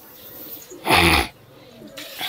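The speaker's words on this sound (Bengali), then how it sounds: "এবার দেখি কি কি পাখি এখানে পাওয়া যায়" Birds at a bustling Guma bird and animal market, where one short, loud bird call bursts out briefly over a low murmur of crowd noise.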